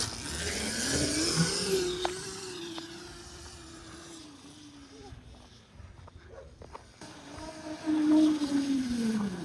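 A Razor MX650 electric dirt bike fitted with an ETM V2 hydraulic fork kit rides past with a whining motor that rises and falls in pitch, loud and nearby, while people talk over it.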